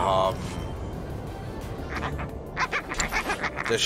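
A creature in Star Wars: The Old Republic chatters and quacks in a rapid run of short, bright pulses that picks up near the end of the stretch, with muffled game sound and a voice underneath.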